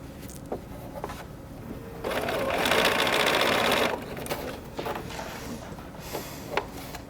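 A sewing machine stitches quilt block pieces in a steady, fairly loud mechanical burst of about two seconds, framed by quieter handling of fabric and small knocks close by.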